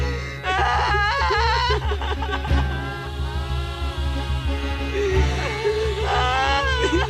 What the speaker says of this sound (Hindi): इस घर से रोने की आवाज आ रही है।